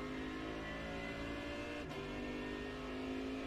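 A GT3 race car accelerates at Sebring in the iRacing sim, its engine droning steadily with a quick gear shift midway before the tone climbs again, heard close and alone.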